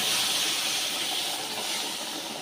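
Rohu fish goes into hot oil in a wok tempered with a dried red chilli, a bay leaf and cumin, giving a loud, steady, close hiss that fades slightly over a couple of seconds, with no voices.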